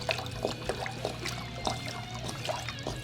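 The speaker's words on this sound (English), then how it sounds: "Fill this thing up with water." Water poured into the radiator of a 1999–2004 Jeep Grand Cherokee gives a steady gurgling pour with rhythmic glugs, close and moderately loud over a low hum, with no talk.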